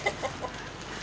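A chicken gives three quick, short clucks close by in a brief, evenly spaced burst over a quiet background.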